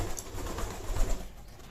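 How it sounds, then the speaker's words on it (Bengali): Pigeons at a rural pigeon market in Katakhali, Magura, coo in low, soft, throaty calls close by, against steady crowd and market background noise. "দেখুন অনেক সুন্দর এই মাক্সি কবুতরটা অনেক সুন্দর"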